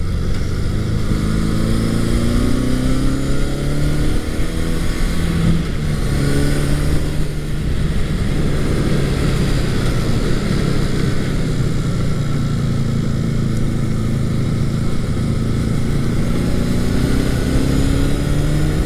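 A Honda CB750 motorcycle, a barn find fitted with new handlebars, is ridden with a steady, loud engine drone and wind rush heard close up, its pitch rising and falling as the throttle changes.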